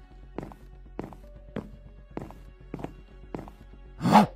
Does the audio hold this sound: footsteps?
yes